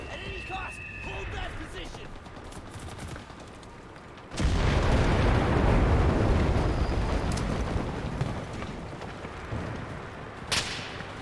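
A sudden loud explosion erupts into a long rumbling roar that slowly fades, with a sharp crack near the end; indistinct voices and game noise precede it.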